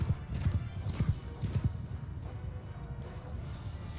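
Horses gallop in Mount & Blade 2: Bannerlord, with rhythmic hoofbeat clip-clops and a whinny during a battle, loud at first and then easing off.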